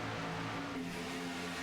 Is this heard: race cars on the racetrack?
yes